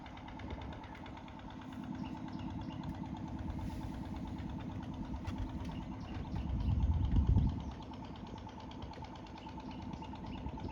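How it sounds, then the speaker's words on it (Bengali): A steady low engine of a tourist trawler boat in the Sundarbans chugs at idle, growing louder and rougher for a moment before settling back to an even drone. "ট্যুরিস্টদের ট্রলার যাচ্ছে"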